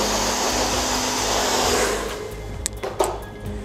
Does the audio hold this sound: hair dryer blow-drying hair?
yes